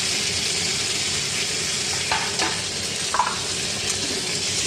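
Tomato and green chili fry in a pan with a constant dense sizzle. A couple of brief utensil scrapes stand out near the middle, and no one talks.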